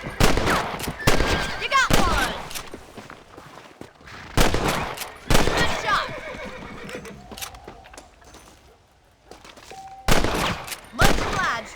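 Rifle shots crack out in loud, sharp bursts while hunting rabbits in the Western video game Red Dead Redemption, spaced across the scene with horse whinnies, hoofbeats and a few brief game tones in between.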